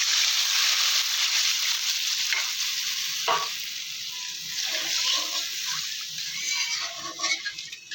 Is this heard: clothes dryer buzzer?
no